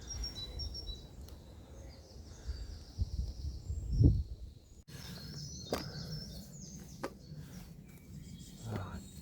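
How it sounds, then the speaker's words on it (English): Birds sing outdoors, with thin chirps and short calls at moderate distance over soft background rustle and occasional low thumps. "The birds are loud, which is nice."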